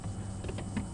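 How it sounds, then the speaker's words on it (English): Steady high-pitched cicada buzzing fills the background at sunset on a safari drive, continuous and fairly distant, with a few faint pulsing swells and no talking. "further cicada noises"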